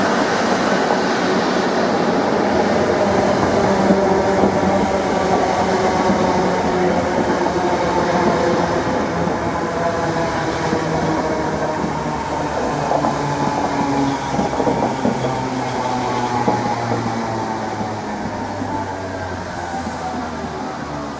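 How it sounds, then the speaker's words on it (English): A Class 90 locomotive-hauled passenger train on a London Liverpool Street service pulls into a station, a steady rolling rumble with a sustained electric whine that slowly eases as it slows. "here comes the 1790 service to London Liverpool Street, now arriving"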